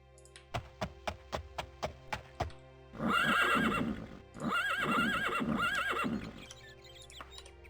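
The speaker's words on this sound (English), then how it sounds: "The horse always goes crazy when I talk to peasants while I'm sitting on it." Horse in the video game Daggerfall whinnies after a run of about eight sharp, evenly spaced hoof clops; two long, loud neighs follow, with faint game ambience at the end.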